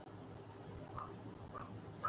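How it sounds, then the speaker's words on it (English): Several dogs bark faintly in the distance at night, a few short separate yelps over a low steady background hum, with no one speaking. "It's getting that time of night where the dogs they start barking."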